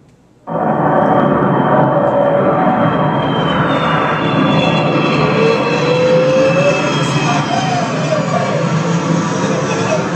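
A jet aircraft taking off, played as a sound effect during a church sermon, a sudden loud roar that swells in and holds steady with a rising engine whine, close and dominant with no talk over it.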